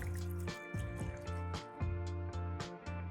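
Water pours steadily into a metal pot, a continuous filling gurgle with rising resonant tones and small splashes, close and fairly quiet.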